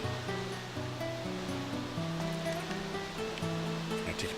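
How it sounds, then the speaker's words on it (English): A waterfall in the video game Dark Cloud 2 gives a steady, continuous rushing roar under layered game music, holding an even level throughout with no speech. "Take a picture of the waterfall."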